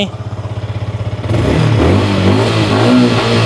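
A Yamaha R15M motorcycle engine idles with a fast, even pulsing thrum, then the throttle opens and it jumps into a loud, sustained rev up close.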